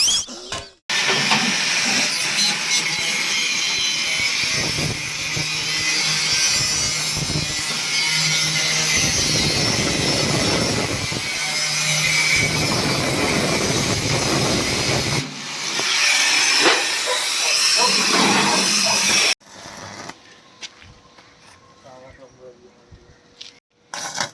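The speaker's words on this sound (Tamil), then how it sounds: "காலைல போனோடனே வேலையாக வெல்டிங் ஆரம்பிச்சாச்சு" Welding repair on a damaged farm implement, a steady loud hissing crackle running continuously for most of the time with brief breaks, then quieter clanks and scattered workshop knocks near the end, with people talking over it.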